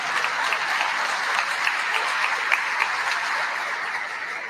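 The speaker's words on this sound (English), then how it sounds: "let's give her a round of applause" Steady, moderately loud applause from an audience at a Kentucky governor's event proclaiming Child Abuse Prevention Month, given for the First Lady, continuing evenly without speech.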